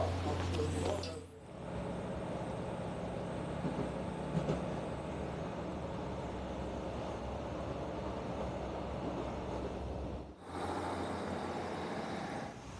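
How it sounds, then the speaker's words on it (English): A train bound for Falmouth rumbles in a steady low drone inside the carriage, a continuous ride noise with a brief dip and shift near the end. "Let's catch our train to Falmouth."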